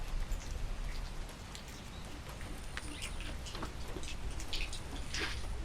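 Heavy monsoon rainwater drips and patters beside a soaked wall, a dense run of close taps over a steady wash of rain, with no voices.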